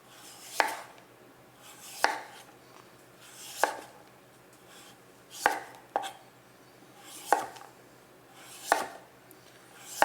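Knife strokes trim the skin from a butternut squash on a cutting board, about seven sharp, evenly spaced cuts each ending in a crisp board tap, close and clear with no talking.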